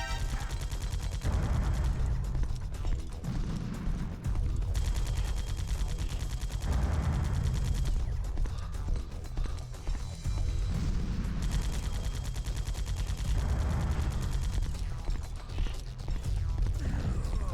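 Bursts of rapid gunfire crackle in Metal Gear Solid: The Twin Snakes, coming in repeated sustained volleys separated by short pauses over a busy game soundscape.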